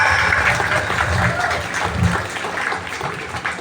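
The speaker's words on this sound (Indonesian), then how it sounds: "tepuk tangan" A crowd at a Maulid Nabi celebration applauds steadily, a dense continuous patter of clapping with murmuring voices mixed in underneath.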